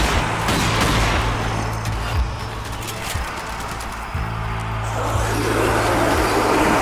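Sustained gunfire from the Zombie Army 4 video game, loud repeated shots over a steady rumbling background of engine-like drone and battle noise, with no talking.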